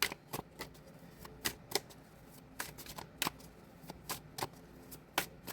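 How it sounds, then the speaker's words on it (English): A tarot deck is shuffled by hand in a series of crisp riffling and snapping bursts with pauses between, close and fairly quiet, with no voice. "Just shuffling the decks."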